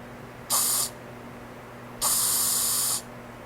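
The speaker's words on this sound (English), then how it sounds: "It's a can of spray." An aerosol spray can hisses in two bursts, a short one and then a longer one of about a second, close and loud against a quiet background.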